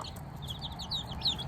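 Young chicks, a mix of hens and roosters, make a run of soft high cheeps and clucks over a steady low background hum, several short calls close by with no talking.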